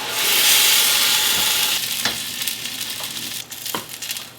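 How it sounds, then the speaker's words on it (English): Chopped garlic sizzles loudly in a hot pan, a bright frying hiss that fades after a couple of seconds into quieter crackling, with scraping knocks from the stirring utensil and no talking. "Now I'm going to add 2 cloves of chopped garlic. Just stir the garlic for a minute"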